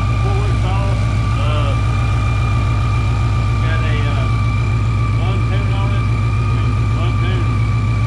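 A built Ford Coyote V8 in an S197 Mustang with a 3.6 Kenne Bell Mammoth supercharger idles with a steady, loud low rumble and whine, while people talk over it.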